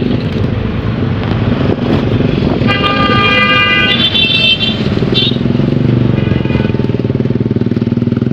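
Busy street noise in Makassar with a loud engine rumble and several sharp car and motorcycle horn toots sounding in bursts over the traffic.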